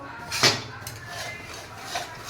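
A utensil scrapes against a pot while adadiya, a Gujarati sweet, is being stirred, giving one sharp knock followed by softer scrapes and a faint second clink, close and without speech.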